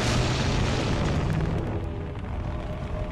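Loud, continuous rumbling explosions from the video game Skibidi Toilet Multiverse, a dense roar of overlapping blasts that stays heavy throughout with no talk.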